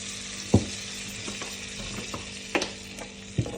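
Butter or ghee with a little oil sizzling alongside spices in a pan for palak paneer butter masala, a steady close fry with a few sharp clacks of a spoon against the pan, no voices.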